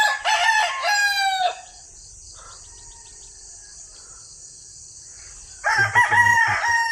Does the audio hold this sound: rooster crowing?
yes